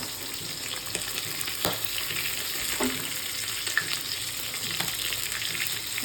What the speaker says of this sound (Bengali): এদিকে মাছটা প্রায় ভাজা ভাজা হয়ে এসছে